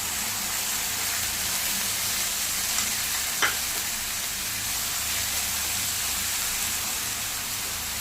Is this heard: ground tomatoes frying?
yes